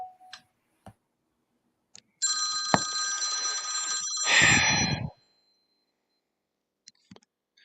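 A telephone at a phone repair shop rings once in a sustained, bright electronic trill lasting about three seconds, preceded and followed by a few faint ticks and clicks in an otherwise quiet room.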